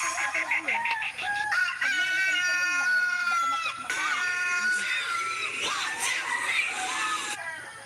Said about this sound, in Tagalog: manok yung tugtog.